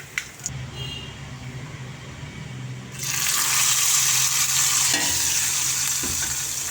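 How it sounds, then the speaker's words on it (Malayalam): Hot mustard seed and curry leaf tempering poured into a jackfruit seed, tomato and coconut curry: a quieter bubbling first, then a sudden loud, sustained close-up sizzle that gradually eases. "ഇനി നമുക്കിതിനെ കറിയിലോട്ട് ഒഴിച്ചു കൊടുക്കാം"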